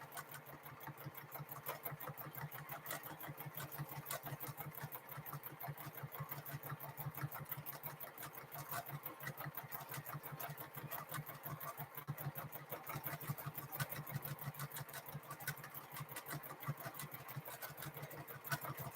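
A sewing machine stitches a quilted tote bag at a steady, even pace, its rapid mechanical chatter running continuously and close for the whole stretch with no talk.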